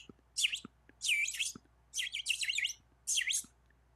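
A voice imitating bird chirping, four short bursts of high tweeting spaced about half a second apart, fairly close and clear with no other talk.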